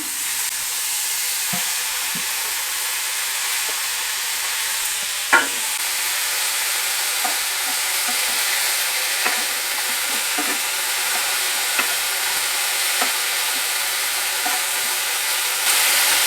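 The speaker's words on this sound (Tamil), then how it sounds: "இப்போ புதினா வதக்கிக்கலாம்." Mint leaves sautéed in a pan with asafoetida and browned lentils, a steady bright hiss of frying oil with occasional soft clicks and scrapes of the spatula, close and continuous.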